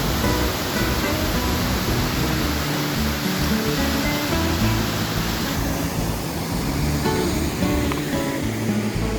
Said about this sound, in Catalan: suposo que serà la represa per moure el molí. Hi ha aigua per tot arreu, tremendo.